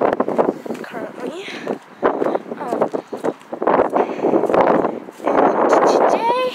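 Strong gusty wind buffets the microphone with roaring, rustling bursts that rise and fall, mixed with a voice speaking.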